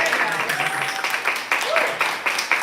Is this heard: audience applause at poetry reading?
yes